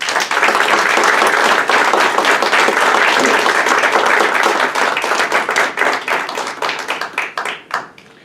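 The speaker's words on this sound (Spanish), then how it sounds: "recibimos con un cálido aplauso al escritor Jaime Merino Guerra." Warm, loud applause from an audience greeting an author at a book presentation, dense steady clapping close by that thins out into scattered individual claps before dying away.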